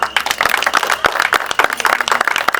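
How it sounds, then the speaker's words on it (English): A crowd of guests at a formal state dinner at Munyonyo applauding, dense loud clapping sustained throughout with some sharp individual claps standing out. "give a resounding round of applause to them very well."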